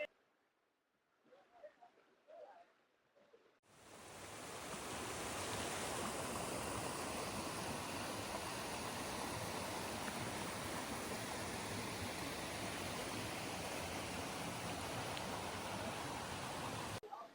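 The Netravathi river stream flows in a loud, steady rush of broadband water noise. A few seconds of quiet outdoor sound come first, and then the continuous flow fills the rest of the clip at a constant level.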